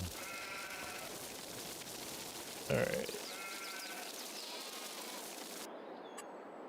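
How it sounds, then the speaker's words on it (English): Sheep bleat in a Farming Simulator 22 farm scene, a few short calls repeating over steady ambient game noise, with a person speaking briefly. "It just kind of looks like I got some sheep roaming there, which is technically true."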